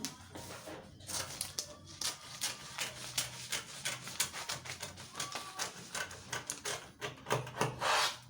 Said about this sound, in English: So I'm going to cut out my dart.